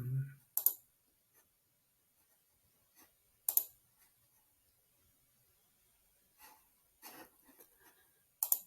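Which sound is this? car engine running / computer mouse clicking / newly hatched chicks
computer mouse clicking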